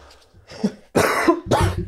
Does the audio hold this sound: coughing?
yes